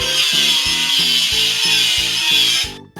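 Rhythmic, rasping back-and-forth grind of an electric sander scraping rust off a car in a children's video game, loud and close, repeating in quick even strokes before cutting off abruptly.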